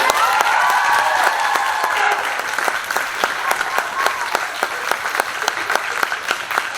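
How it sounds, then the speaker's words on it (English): A school audience applauds seniors at the final performance of a Twelfth Night musical, with dense, steady clapping throughout that eases slightly toward the end, with some crowd noise. "everybody can clap for them"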